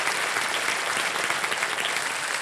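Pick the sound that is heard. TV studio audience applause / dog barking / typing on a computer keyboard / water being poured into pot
TV studio audience applause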